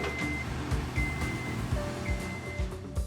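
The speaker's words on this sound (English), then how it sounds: "The descent alarm sounds at 60 beeps per minute." A Genie aerial work platform's descent alarm beeps in regular, evenly spaced tones at 60 beeps per minute over a steady low engine rumble, with one beep at a lower pitch near the end.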